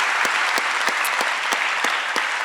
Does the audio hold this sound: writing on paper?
no